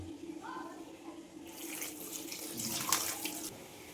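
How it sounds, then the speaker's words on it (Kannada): Spinach leaves being washed in water with rock salt, a soft swish and splash of water that swells midway with a few louder sloshes, heard faintly up close. "ಇದನ್ನ 2 ರಿಂದ 3 ಸಲ ಕಲ್ಲುಪ್ಪು ಹಾಕಿ ವಾಶ್ ಮಾಡ್ಕೊಳ್ಬೇಕು."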